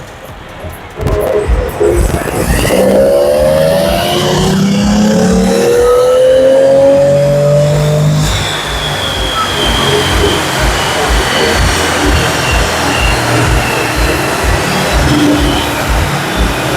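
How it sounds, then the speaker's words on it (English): VW V12 engine revving hard on a dyno at a dyno day, a loud roar climbing in pitch over several seconds, then settling into a sustained high-rpm drone. "we have the V12 on the dyno. Let's see what powers it can make."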